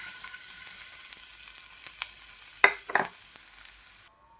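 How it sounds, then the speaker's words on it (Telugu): Flattened rice (poha) fries in ghee with a steady, soft sizzle throughout, broken by a couple of sharper stir clatters near the end before it cuts off abruptly. "నెయ్యిలో అయితే అటుకులు అయితే వేగిపోయినాయి"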